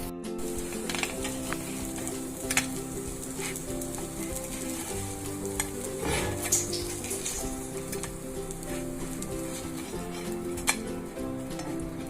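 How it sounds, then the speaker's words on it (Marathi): Spicy bread slices roasting in a hot pan, with steady close sizzling and frying throughout and occasional light clinks and scrapes of utensils against the pan. "ब्रेड छान भाजतात आणि त्यांना खूप रंग पण येतोय, मस्त रोस्ट होत आहेत।"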